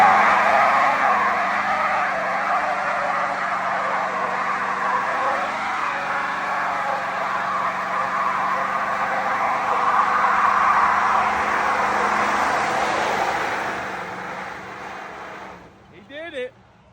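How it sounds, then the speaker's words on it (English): Turbo LS truck doing a burnout, its tires spinning and squealing under a loud, sustained engine-fan roar that holds steady for about fourteen seconds, then fades, with a brief voice near the end. "All you heard was tire and fan."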